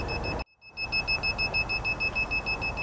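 A gate opener control board for an Estate Swing Classic or 1000 system beeps steadily as the limit switch is set into position, a rapid, even string of short electronic tones running on after a brief quiet gap near the start.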